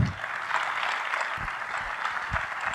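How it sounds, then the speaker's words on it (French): Audience applause welcoming a guest from Sam Outillage, an industrial tooling company, at an industrial trade show: steady, dense clapping from a crowd, fairly distant and even throughout. "Je vous demande, sous un tonnerre d'applaudissements, d'accueillir Olivier Blanc de Sam Outillage"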